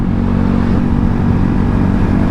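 A 2025 Honda Grom fitted with a Zoom Loop full exhaust pulls hard under acceleration, its engine drone loud, steady and close throughout with a dense low rumble.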